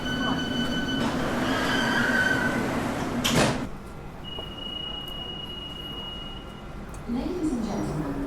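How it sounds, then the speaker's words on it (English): A London Underground Central Line train running, with steady loud rumble, a sharp burst of noise, then a thin high tone over the quieter ride. "This is a Central Line train to West London."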